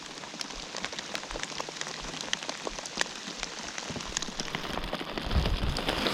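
Rain falls on the Brazos River, a steady hiss of drops spattering the water and nearby surfaces, close and continuous, growing a little louder toward the end.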